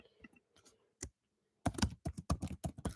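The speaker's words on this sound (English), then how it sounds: "So I'm just going to type this in as well." Computer keyboard typing comes in sparse, soft key clicks at first, then a quick, close run of crisp keystrokes in a steady burst at the end.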